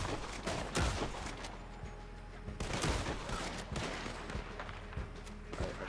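Gunshots ring out in a Red Dead Online match, a dense scatter of sharp reports, some close and punchy and others more distant, firing in irregular bursts against steady game ambience.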